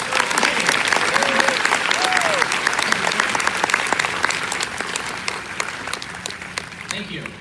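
Audience at a D23 Haunted Mansion 50th anniversary panel breaks into steady, dense applause that stays loud and fills the room, with a few scattered whoops over the clapping.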